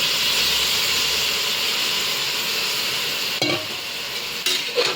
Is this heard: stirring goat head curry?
yes